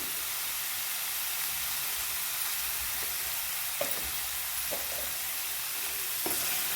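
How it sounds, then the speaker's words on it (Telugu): Ginger garlic paste frying in oil in a pan for a spicy prawn curry, a loud continuous hissing sizzle close by with a few soft stirring taps. "ఇది కూడా చక్కగా వేయించుకుందాం ఈ అల్లం వెల్లుల్లి పేస్ట్లో"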